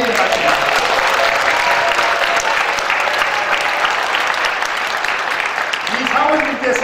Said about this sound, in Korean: 저를 보시고 박수로 한번 격려해 봅시다.